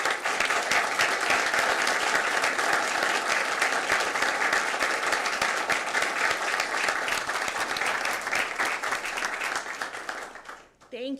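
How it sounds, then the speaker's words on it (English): An audience at a school board of education meeting claps to honour AP teachers, a steady dense round of applause lasting about ten seconds before fading out, with a brief voice at the very end. "let's give our AP teachers a round of applause as well."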